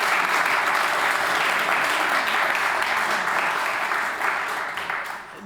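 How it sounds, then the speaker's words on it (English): A large conference audience in Amsterdam applauds steadily, a dense wash of many hands clapping at an even level that thins and softens toward the end with no talk over it. "Yeah, you can applaud."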